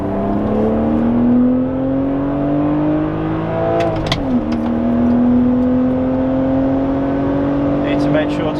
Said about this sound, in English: Need to make sure to use the whole rev range.